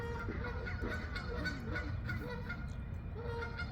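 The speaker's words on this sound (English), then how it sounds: "What geese?" Geese honk repeatedly at close range, a flurry of nasal calls over steady background noise, with no voices.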